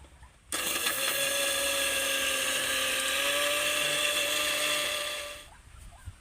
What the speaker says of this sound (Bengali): প্রথমেই আমি চিনি আর এলাচটা গুঁড়ো করে নেব